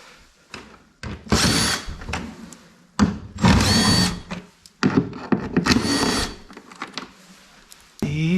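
A power drill whines in repeated loud close bursts of a few seconds each as it backs Torx head bolts out of an Arctic Cat Trail side-by-side during engine removal, with brief quiet gaps and clicks between.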